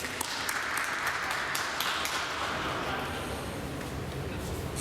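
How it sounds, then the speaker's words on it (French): A church congregation at a Sunday service applauds the children, soft and distant at first, then fading into a quieter, hollow room tone. "on peut peut-être les applaudir si vous voulez bien"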